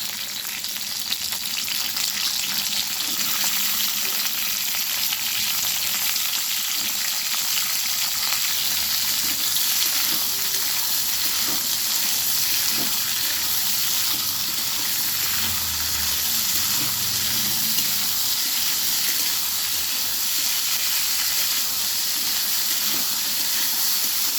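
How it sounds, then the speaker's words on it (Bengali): Vegetables frying with panch phoron in a pan for a cauliflower-stalk chorchori, a loud, continuous, close sizzle with hissing steam and occasional faint stirring scrapes throughout. "দিয়ে দিলাম পাঁচ ফোড়ন আমি এবারে সবজিগুলো সব ভেজে নেব"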